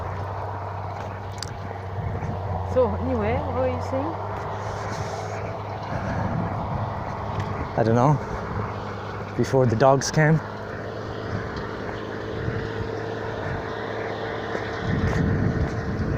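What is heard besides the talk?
tractor engine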